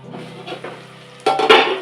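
A plate lid is lifted off a pan of eggplant cooking for vangibath gojju, starting with a soft low hum and light clinks, then a sudden louder clatter of metal and a burst of sizzling once the pan is uncovered.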